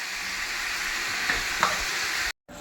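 Prawns and potatoes fry in a pan with a steady loud sizzle, a brief stir or scrape partway through, then a sudden cut to silence before the sizzle resumes.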